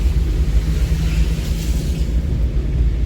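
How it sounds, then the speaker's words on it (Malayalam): Heavy rain falls in a steady, dense roar with a deep rumbling undertone, continuous and close with no voices. "നല്ല മഴയാണ് ഗൈസ്"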